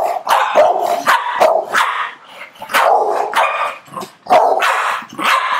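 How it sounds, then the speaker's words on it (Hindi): Dog barking in repeated loud, close bursts, several sharp barks with short gaps between them, no talk heard. "तू क्या तू चीखता है क्या शोर में भौंकता है"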